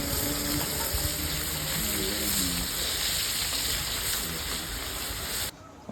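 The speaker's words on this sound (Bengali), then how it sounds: "কই মাছ দিয়ে দেওয়া হলো এসব খুব যত্ন সহকারে সবগুলোকে ওলট পালট করে আমাদের জন্য ভালোভাবে ভাজা করতেছে" Shing and koi fish frying in a pan at a roadside fish eatery in Kaliganj, Gazipur, a steady loud sizzle with watery hiss that runs unbroken for several seconds, with voices murmuring in the background before it cuts off abruptly.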